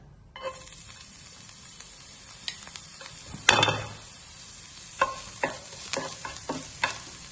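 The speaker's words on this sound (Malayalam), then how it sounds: "എണ്ണ നന്നായി ചൂടായി വരുമ്പോൾ നമ്മൾ എടുത്തു വെച്ചിരിക്കുന്ന ഇഞ്ചിയും വെളുത്തുള്ളിയും ചേർത്ത് കൊടുക്കാം" Ginger and garlic drop into hot oil for a Malabar-style chatti porotta filling, setting off a sudden loud sizzle followed by steady frying with repeated scraping and clinking as a spoon stirs the pan.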